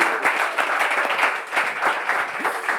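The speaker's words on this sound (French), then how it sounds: "On peut les applaudir encore très fort." Audience applause for the finalists of a Bible quiz evening, dense and steady clapping from a crowd throughout, fairly loud and close, with no talk over it.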